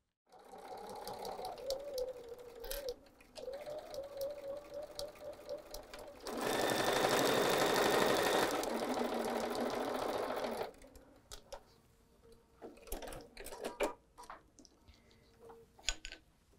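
A sewing machine stitches a fabric hourglass coaster in a steady burst of whirring of about four seconds, framed before and after by softer handling clicks and rustles of the fabric.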